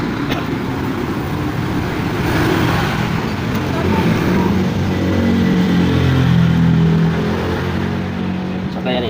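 Noisy road traffic passes steadily nearby, a continuous rumbling wash of car and motor vehicle engines that swells slightly mid-way without a break.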